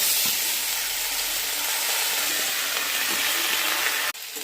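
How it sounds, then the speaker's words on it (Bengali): Soaked rice hits a hot pan of oil where cashews have just been fried, giving a loud, steady, close sizzle with hiss that cuts off abruptly near the end. "এবার ভেজা চালটা দিয়ে দেবো।"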